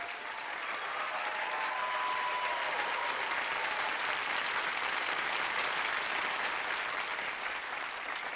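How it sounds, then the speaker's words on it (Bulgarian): A Bulgarian television studio audience applauds a performer impersonating Irina Florin. Dense, even clapping holds at full strength for the whole stretch, with no voices on top. "аплодисменти за чаровната Ирина Флорин"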